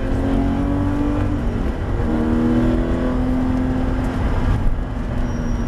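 Porsche GT3 RS accelerating hard on a wet race circuit, heard from inside as a loud, sustained engine roar that climbs through the gears with brief drops in pitch at the shifts.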